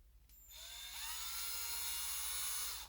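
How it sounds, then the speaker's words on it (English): The chuck of a Ryobi drill driver spins open in reverse, a close, high-pitched motor whine that rises in pitch over its first half second and then holds steady. "Now I'm going to open this chuck by pushing it on the left to loosen it"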